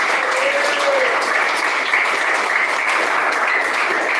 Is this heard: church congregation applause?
yes